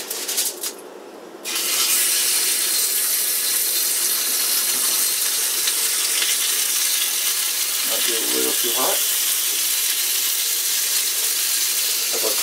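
Bacon-wrapped steak sizzles steadily in a cast iron pan, a loud continuous frying hiss that runs almost unbroken after a brief quieter start, with a short clatter partway through.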